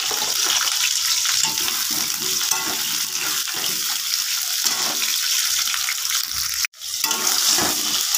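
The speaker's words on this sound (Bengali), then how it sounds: "তো আলুটা ভালো করে লাল লাল করে ভেজে নেব" Potatoes seasoned with turmeric and salt fry in hot oil in a wok, giving a loud, continuous close-up sizzle. A brief cut of silence interrupts it near the end.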